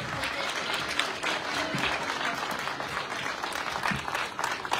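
An audience applauds after a song at a live singing performance, with dense, steady clapping filling the whole stretch at an even, sustained loudness.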